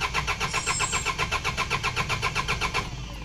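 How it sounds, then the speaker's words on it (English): A car engine cranks without starting: a steady, rapid rhythm of starter-motor pulses chugs evenly and loudly throughout, never catching into a running idle. "Otherwise, you'll just keep cranking your engine."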